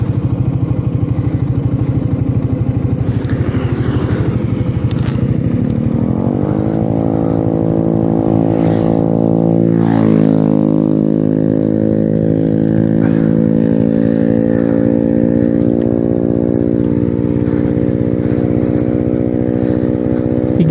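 A Suzuki motorcycle engine revs up steadily in second gear, its pitch climbing over several seconds, then holding a high, loud whine.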